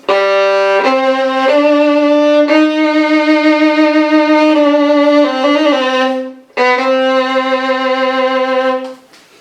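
Solo violin plays Sarasate's Zigeunerweisen loud and close, with long sustained notes, a few quick ornamented runs and a brief pause before resuming.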